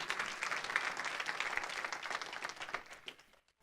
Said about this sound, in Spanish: Denle un fuerte aplauso al Rey de la Gloria conmigo.